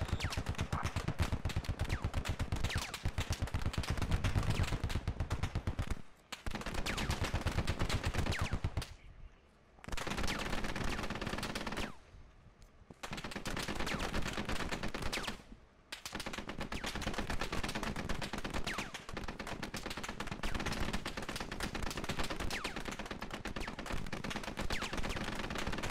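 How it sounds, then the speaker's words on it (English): Sustained machine gun fire in the military shooter Squad, long rapid automatic bursts loud and dense, broken by a few short lulls before resuming. "Suppress the enemy machine gun positions and use the lull in their fire to advance."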